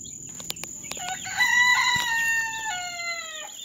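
A rooster crows loudly and close among a backyard flock of chickens and Cornish Rock chicks, a single long cock-a-doodle-doo following a few short clucks and clicks.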